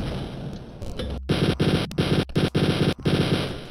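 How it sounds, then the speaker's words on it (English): Rapid, loud chain gun fire in Wolfenstein 3D, sustained bursts broken by brief gaps, with dense mechanical shot noise and no talking. "Chain gun."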